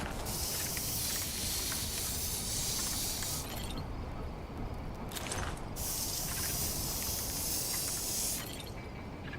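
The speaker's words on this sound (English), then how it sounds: "there's the container spray." Container repair spray in the video game Death Stranding 2, heard as two long, steady hissing bursts, each lasting a few seconds with a short gap between them, loud and close, with no talking.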